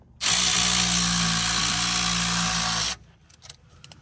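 A power drill whirs loudly at a steady pitch for about three seconds, then cuts off, leaving faint clicks and rattles.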